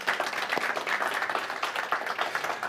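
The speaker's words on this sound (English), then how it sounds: "give a big, big round of applause to all of those watching online" Church congregation applauding during a Sunday service, a dense burst of hand clapping sustained throughout, fairly close and lively.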